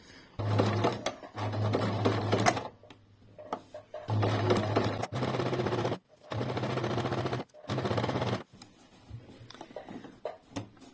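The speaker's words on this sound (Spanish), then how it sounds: "cuando yo vaya cosiendo, el pespunte irá saliendo a 1 centímetro del borde" A sewing machine stitches a shirt seam with a 1 cm seam allowance, running in several loud bursts of rapid, even stitching separated by short pauses, with no talking.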